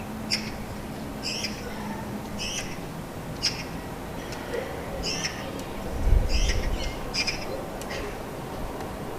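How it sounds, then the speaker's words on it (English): Young magpies call noisily from nearby rooftops: a steady series of harsh, sharp chatters repeating at irregular intervals over a constant outdoor background hum, with a brief low rumble midway. "The young magpies landed on the opposite roofs. They play noisily over there, running about and hopping onto chimneys."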